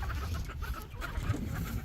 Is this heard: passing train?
no